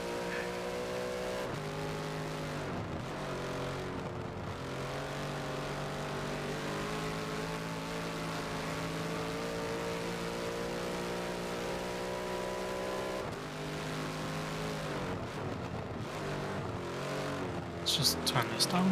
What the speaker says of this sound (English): Just really enjoy the noise of the Bentley.